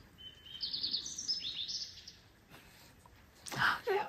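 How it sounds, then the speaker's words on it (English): A small bird chirps outdoors in springtime near a coastal home, a quick series of high, fairly faint tweets and trills against background noise, followed by a brief louder sound near the end. "Do you hear the bird?"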